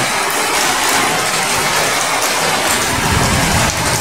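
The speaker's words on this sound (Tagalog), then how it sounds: "malakas ang ulan" Heavy rain pours steadily and loudly, a dense continuous hiss with no pauses or voices.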